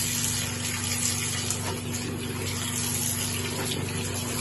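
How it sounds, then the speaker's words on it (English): Water runs steadily while white laundry is rinsed, a continuous close gushing wash with a faint hum under it and no talking. "Now we're gonna rinse the white first."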